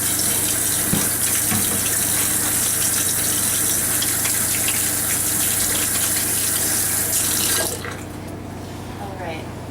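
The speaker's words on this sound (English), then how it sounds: "So I want to wash my hands real quick because I'm doing food." A kitchen tap runs full and steady as hands are washed beneath it, a loud continuous gush that stops abruptly near the end, with a brief voice underneath.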